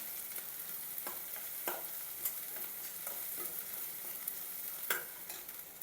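Ground masala sizzles with onions in a pan for capsicum curry, a steady hiss punctuated by repeated scraping stirs of a spoon, close and moderately quiet.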